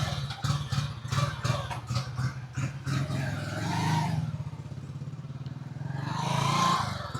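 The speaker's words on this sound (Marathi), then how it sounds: "तर आपली बाईक सुरू झाली एका किकमध्येच" A kick-started motorcycle runs close by, its engine thumping in a rapid steady beat at first, then settling into a smoother idle with a gentle rev swelling near the end.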